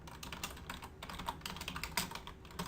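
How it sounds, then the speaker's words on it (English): A letter is typed on a computer keyboard as a quick, irregular run of close key clicks that continues throughout, with no talk. "What I'm going to do is start typing the body of the letter."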